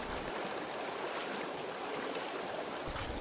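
A bicycle crosses a cold stream on a desert bikepacking route, heard as a dense, steady wash of rushing, splashing water close by that cuts off abruptly near the end, with no talking.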